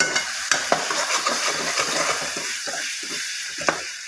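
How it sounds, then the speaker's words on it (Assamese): Spice masala with coriander powder fries in a pan for rasgulla curry, giving a steady sizzle broken by repeated scraping stirs and a few sharp clinks of the spoon against the pan, close and clear. "মছলাখিনি ভালকৈ ভাজিব লাগিব"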